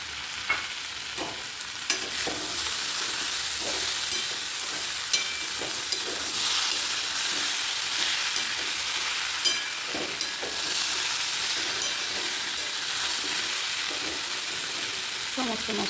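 Bitter gourd and potato frying in a pan, a continuous soft sizzle with regular clacking stirs of a spatula every second or two, moderately quiet and close.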